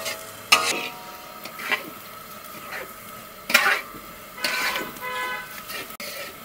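Parboiled jirakathi rice being stirred in a pot for khichuri, with intermittent scraping and clattering strokes over a faint sizzle, fairly close and without talk.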